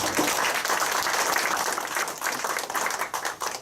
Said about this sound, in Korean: 장시간 열과 성의를 다해 주신 두 분 회장 후보님께 큰 박수를 부탁드립니다